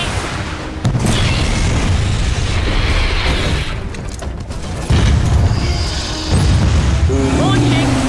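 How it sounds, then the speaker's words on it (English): Gears of War 4 rocket launches and heavy explosions roar in repeated loud bursts, rumbling booms separated by brief dips, with a voice talking over the action. "Rockets away."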